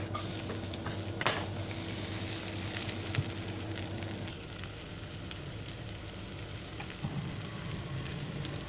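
Chopped onion lightly frying in hot mustard oil in a pan, a steady bright sizzle with occasional stirring scrapes and spits, continuous and close, without talk.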